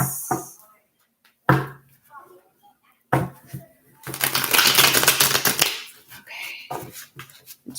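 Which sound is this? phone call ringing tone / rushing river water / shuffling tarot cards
shuffling tarot cards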